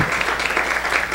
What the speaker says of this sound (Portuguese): Peço uma salva de palmas para o nosso convidado